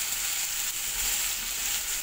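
Chicken tikka pieces fry on low heat, giving a steady, even hiss of sizzling oil that stays soft and constant throughout with no talking.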